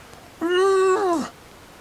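A cat gives a single clear, drawn-out meow, rising then sliding down at the end, loud and close against a quiet background.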